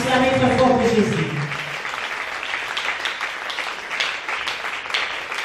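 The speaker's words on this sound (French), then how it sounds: "Put your hands together for Jesus. Acclamez très fort pour Jésus." A church congregation claps and cheers for Jesus, steady applause that fills the space from start to finish, with a voice briefly audible over it at the beginning.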